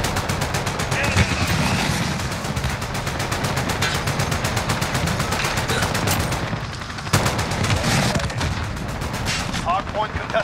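Rapid automatic gunfire from Call of Duty: Modern Warfare multiplayer rattles almost continuously in loud, dense bursts, with a few heavier cracks mixed in, while players talk over the shooting.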